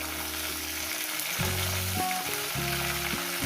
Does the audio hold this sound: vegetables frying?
yes